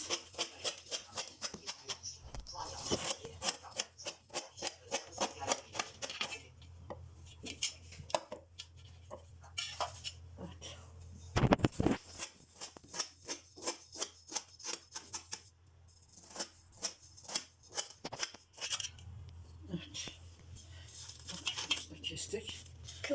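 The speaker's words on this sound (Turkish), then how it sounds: "Kadayıfımızı şimdiden kesmeye başlıyorum." A knife cuts through a tray of kadayıf dessert with crisp, rapid rhythmic crunching and scraping that repeats throughout. Someone talks over the cutting in places.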